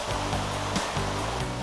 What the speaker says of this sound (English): Besides rescuing people, the engine can also spray thousands of gallons of water through the use of a nozzle called a monitor.